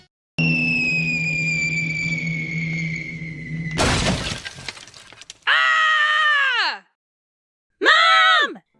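A crash through a wet bar with glass shattering: a loud burst of breaking and clattering debris cuts in after a sustained tone, followed by two separate strained groaning cries.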